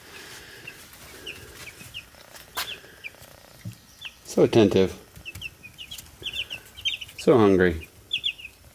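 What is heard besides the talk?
chicks chirping in brooder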